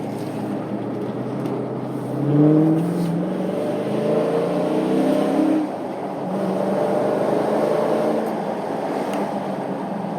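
A 2019 Dodge Challenger R/T Scat Pack Widebody with a manual gearbox climbs a hill in sport mode. The engine drones steadily from inside the cabin and swells in two brief surges.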